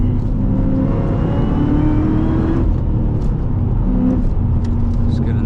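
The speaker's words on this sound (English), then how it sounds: "This car corners very well." A Cadillac CTS-V with a supercharged engine driving on a road, a steady loud engine and road roar with rising pitch as it accelerates, heard from inside the car.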